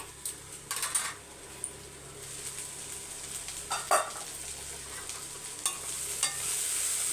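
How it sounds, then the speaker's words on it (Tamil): Raw rice sizzles as it fries in a pan for coconut-and-lentil stir-fry prep, with a steady frying hiss and scattered scraping stirs and grain rattles throughout, close by and without speech. "அரிசி மட்டும் கால் கப்பு சேர்த்துக்கோங்க நல்லா பொறிஞ்சு வரணும்"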